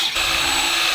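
Power drill widening a hole in a metal bar for a swing-away motorcycle carrier, a loud, steady high-pitched whine of the bit grinding through steel, close up and continuous after a brief start.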